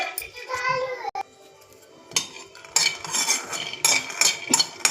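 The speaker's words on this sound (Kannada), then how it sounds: "ಅರ್ಧ ಕಪ್ ಆಗೋಷ್ಟು ಕಡಲೆ ಬೀಜ ತೊಗೊಂಡಿದ್ದೀನಿ ನೀಟಾಗಿ ಫ್ರೈ ಮಾಡ್ಕೊಳ್ಳಿ" Peanuts dry-fry in a kadai while a spoon stirs and scrapes them in sharp metallic bursts, with voices talking over the clatter.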